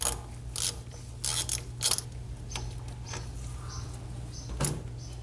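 A wrench ratchets in short metallic clicking bursts while loosening the single bolt holding the AC lines at the rear of the compressor on a 1995 Chevy OBS truck, over a low steady hum.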